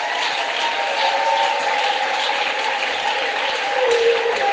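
Church congregation at a Sunday service applauding and cheering, a dense steady wash of clapping with a sustained tonal line, likely voices or music, running through at even loudness.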